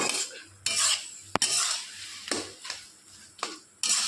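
Cooked colocasia (kochu) leaves being stirred and scraped in a pan, a few separate scrapes and clinks with short pauses between them, close and moderately quiet, with no talking.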